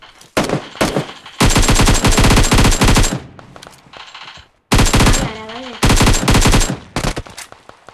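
Rapid automatic gunfire in the battle royale game BGMI, loud close bursts of repeated shots separated by brief pauses, with a short rising tonal effect between bursts.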